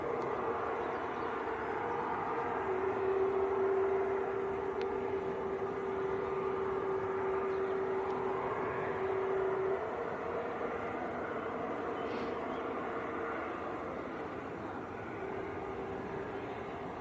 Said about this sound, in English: the Qatar A350 just starting to taxi out as well